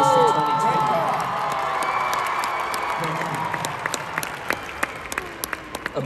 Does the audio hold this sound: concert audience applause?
yes